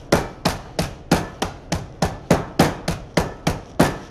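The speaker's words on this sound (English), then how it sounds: "Now I could get a rolling pin or something like that to crush up the ice, but I've got my hammer, so I like using this." A hammer strikes ice held in a canvas Lewis bag, landing about a dozen sharp, even thuds one after another, close and loud with no talking.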